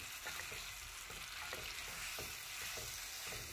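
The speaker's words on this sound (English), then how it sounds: "I'm just going to combine this well, continue the saute for another 5 minutes" Potatoes and carrots sauté in a pan coated with enchilada sauce, a soft, steady sizzle with gentle rhythmic stirring scrapes throughout.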